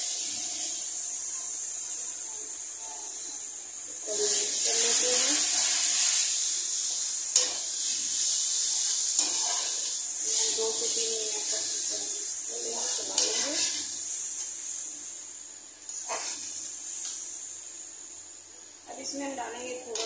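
Spices and ground tomato sizzle and hiss in a hot pan for a soybean curry while a spoon scrapes and stirs, with a voice talking over it.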